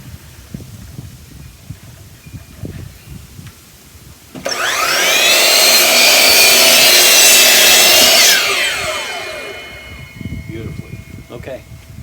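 A power saw cuts through wood for a custom door: a sudden loud whining cut lasting about four seconds, fading as the blade spins down, with quieter workshop handling noises before and after.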